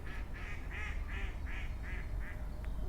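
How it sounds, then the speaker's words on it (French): A duck quacks in a steady run of about seven evenly spaced calls, clear and fairly close over a low rumbling outdoor background. "Il se moque de moi le canard."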